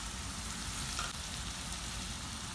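Green chillies and green onion sizzle in hot oil in a pan for spicy dhaba-style fried keema, a steady close crackling fry at a moderate level with no talking.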